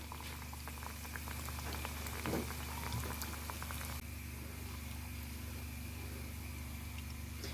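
Sesame pişi dough fries in hot oil with a continuous bubbling sizzle, scattered pops and a low hum beneath. It stays moderately quiet with no talking.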